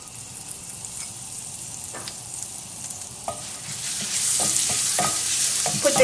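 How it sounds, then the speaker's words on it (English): Garlic sizzles in melted butter in a hot pan while garlic shrimp is cooked, with scattered spoon clicks and stirring scrapes, and the frying grows louder and brighter toward the end. "Now we're going to add the garlic."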